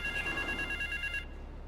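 Payphone ringing in the video game Grand Theft Auto III, heard as a steady electronic bell trill that rings clearly for over a second and then stops abruptly, with no talking.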